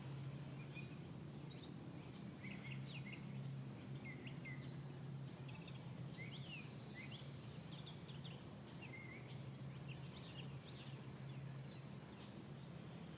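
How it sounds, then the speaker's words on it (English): Faint birdsong outdoors, scattered chirps and short trills at a distance over a low steady hum. "listen to the birds"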